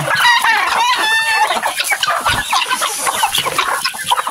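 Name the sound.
many farm ducks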